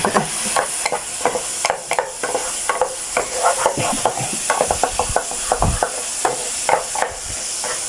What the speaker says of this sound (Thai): ผัดพริกน่ากินมาก